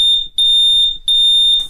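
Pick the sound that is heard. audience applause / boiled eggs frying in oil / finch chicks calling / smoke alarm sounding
smoke alarm sounding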